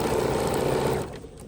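A sewing machine stitches close and loud with the free arm exposed, a fast dense buzz lasting about a second before cutting off into quieter room noise.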